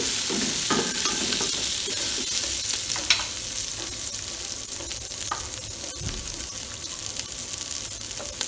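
Steady sizzling of chopped celery and vegetables frying in a pot for beef roast, with occasional scraping and clinks as they are stirred, close and fairly loud throughout.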